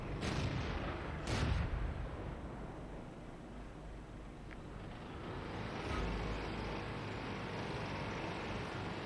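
Tank cannon fire in World of Tanks, with a couple of heavy booms early on over a constant low engine rumble and another muffled thud later.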